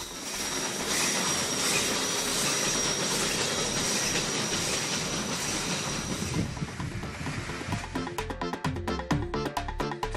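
A special mountain train runs along the railway, a loud continuous rumble of wheels and carriages, then a rhythmic clickety-clack of wheels over rail joints toward the end, with no talk.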